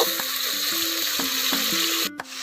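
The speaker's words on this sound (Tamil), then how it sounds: "தக்காளி நல்லா வதங்கட்டும்." Tomatoes sautéing in a pan for a dry fish gravy, with a soft continuous sizzle and light, regular stirring strokes.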